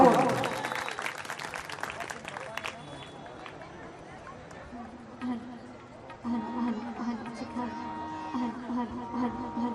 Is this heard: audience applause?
yes